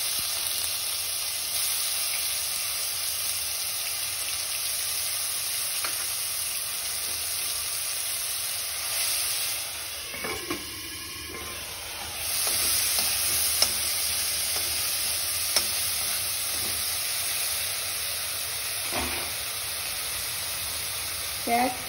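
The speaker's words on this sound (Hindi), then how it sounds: "ये जो लहसुन अदरक और मिर्ची की पेस्ट है उसे डालूंगी" Garlic, ginger and chili paste frying in hot oil while preparing a sweet corn curry, with a steady hissing sizzle throughout and occasional stirring scrapes and clinks near the pan.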